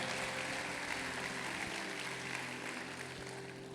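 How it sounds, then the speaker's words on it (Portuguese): A church congregation applauds during a worship service, a dense, even patter of clapping held steady and moderately distant for the whole stretch. "Dê uma salva de palmas a Ele se você toma posse e crê"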